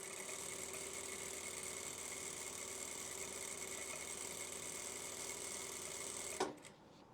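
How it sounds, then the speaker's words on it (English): Sewing machine stitching fabric for decorative strip curtains, a steady even whir running continuously before stopping abruptly near the end. "Now any sewing machine will do this."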